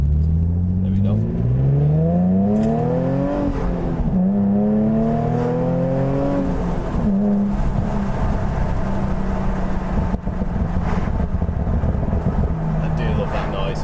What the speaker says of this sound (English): I'll put it in 3 so you can hear the pop and farts.